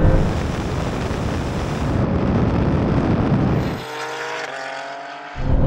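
A 750-horsepower tuned BMW M3 and a Porsche 911 Turbo S accelerate hard in a drag race from a 50 mph rolling start in third gear, a loud continuous engine roar with a sudden drop and gear-change shift near the end.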